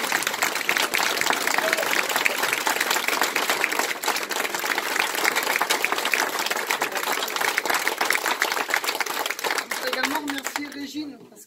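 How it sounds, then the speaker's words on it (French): Audience at the closing speech of a song festival applauds loudly and continuously for about ten seconds, a dense wash of clapping from a large crowd that fades out at the end. "il faudrait vraiment qu'on l'applaudisse bien fort"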